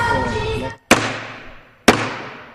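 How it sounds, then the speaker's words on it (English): A gavel bangs twice on the rostrum of the House chamber, each a loud, sharp crack with a long echoing decay, about a second apart, following a stretch of voices and background murmur. "The gavel banged."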